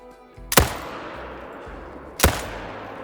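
Two loud rifle shots in a wolf-hunting video game, spaced well apart, each a sharp crack trailing into a rumbling echo over a low ambient game background.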